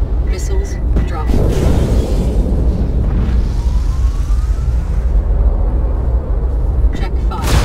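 Missiles explode in a space combat video game, a heavy rumbling boom that swells and sustains for several seconds over dense game noise, with voices heard in the scene.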